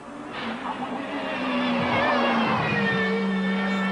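A 1984 Lancia Delta S4 rally car prototype drives hard at speed during testing, its engine note steady and rising as it roars past loud and fairly close.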